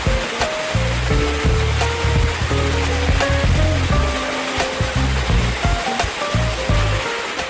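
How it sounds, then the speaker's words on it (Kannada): A loud, constant roar of Bangara Kusuma waterfall fills the scene, with a melodic tune playing underneath. "ಬಂಗಾರ ಕುಸುಮ ಜಲಪಾತ ಆಕರ್ಷಣೀಯವಾಗಿದ್ದು"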